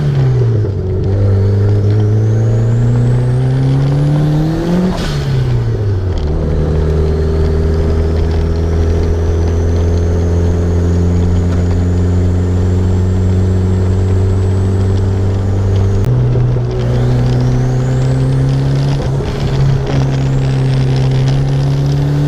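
A turbocharged Honda Civic fitted with an NGR blow-off valve sends up loud rising turbo whistles as the engine revs, with a sharp hiss of venting air at each throttle lift and a sustained engine drone between.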